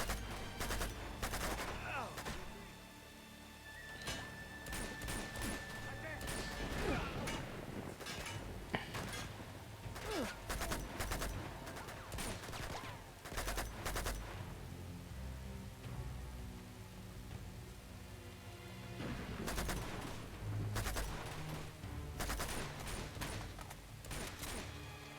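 Rapid bursts of gunfire fill a helicopter battle in the video game Uncharted 2, dense volleys and single shots cracking loudly throughout with a few brief pauses, under occasional talk.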